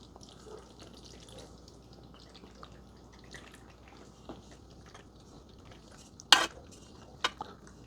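Pasta being combined into a creamy Cajun chicken sauce in a deep skillet, with soft wet stirring and squelching throughout, a few faint clinks and one sharper utensil knock against the pan near the end.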